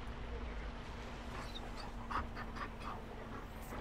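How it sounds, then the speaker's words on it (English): A big dog in Dragon Age: Inquisition pants steadily and faintly for several seconds under a low background hum, with a few short whimpering yips toward the end. "That's a big dog."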